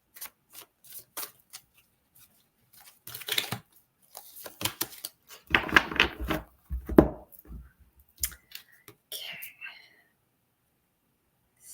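Tarot cards shuffled by hand for a card pull, soft riffling and slapping bursts scattered across the span, close and intimate with quiet gaps between.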